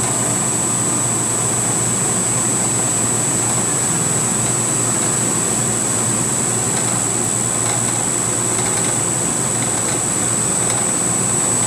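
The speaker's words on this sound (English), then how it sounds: "It always chatters on the front edge here because the part's not very strong." A CNC mill cutting a NEMA 23 standoff part for a PM-25 machine, a continuous loud grinding whine with a steady high tone and rough chattering texture throughout.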